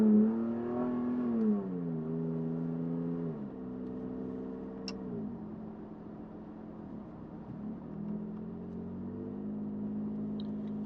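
Car engine accelerating with a Pedal Monster throttle controller fitted, a steady droning hum whose pitch climbs and shifts through several gear changes, moderately loud and continuous with no talk.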